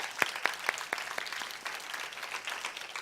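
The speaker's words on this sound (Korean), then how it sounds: "우리 순장들 행복해지라고 격려의 박수 한번 쳐줬으면 좋겠습니다." A church youth congregation applauds in encouragement, giving a steady, moderately distant patter of clapping with a few sharper individual claps near the start that lasts the full three seconds.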